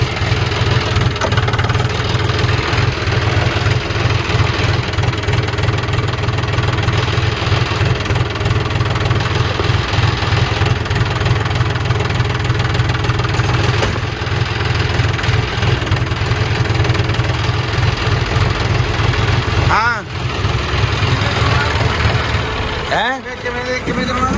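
An engine starts up and idles, probably a farm tractor used for spraying maize crops, a loud steady low throbbing rumble with a regular pulse, with a brief dip near the end.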